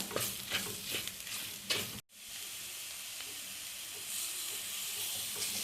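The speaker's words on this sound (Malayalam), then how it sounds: "ഇനി ഇതിൻ്റെ പച്ചമണം മാറുന്നത് വരെ നന്നായിട്ട് ഇളക്കി കൊടുക്കുക" Masala with coriander and chili powder stirred in a pan for crab roast, a busy close sizzle with rhythmic scraping strokes, briefly cutting out before a steadier hiss resumes.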